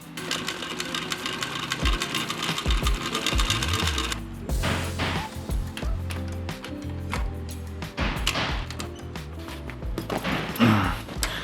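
A sewing machine stitches through about four thick layers of a backpack prototype, a close, loud mechanical rattle that runs steadily at first, then continues in choppier, labouring bursts with clunks and pauses.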